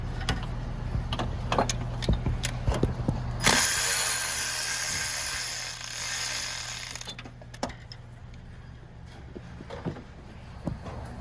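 Ratchet wrench clicking in quick irregular bursts while loosening 10mm timing belt tensioner bolts on a Honda J35 3.5L V6, close up, with a brief loud hissing spray partway through.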